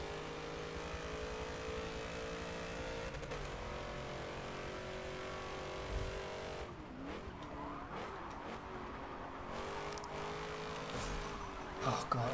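Race car engines in the video game Forza 7, a sustained high whine of revving motors with shifting pitch, a tire squeal and several cars passing, continuous and loud throughout.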